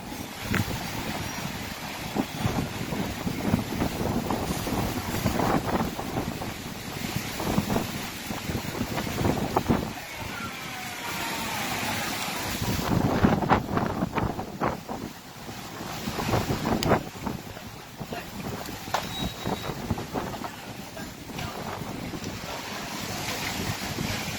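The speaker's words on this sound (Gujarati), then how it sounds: "ખતરનાક પવન ચાલુ રહ્યો છે." Strong wind gusting hard in Vadia as rain sets in, a loud, roaring rush that buffets the microphone and surges in waves throughout.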